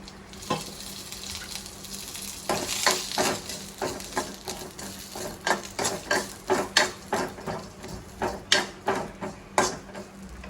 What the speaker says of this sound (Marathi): आता आपल्याला हे भाजून घ्यायचं आपण टाकूया पहिलं खोबरं थोडंसं तेल